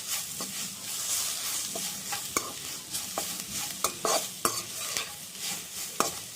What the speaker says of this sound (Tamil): சேர்த்து லைட்டாக ஒரு வதக்கி விட்டுக்கோங்க.